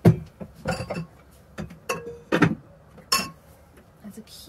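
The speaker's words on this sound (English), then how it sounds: "It's a cute, colourful little glass vase." Small, colourful glass vase clinking as it is handled, a string of light, sharp chinks and taps scattered through the clip, close and fairly clear.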